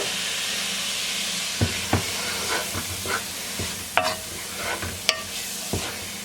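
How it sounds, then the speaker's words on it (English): Onion sautés with browned ground meat in a skillet for a hamburger pie, giving a steady close sizzle and hiss broken by several sharp spatula scrapes and knocks against the pan at irregular intervals. "I'm going to go ahead and add some onion to the dish"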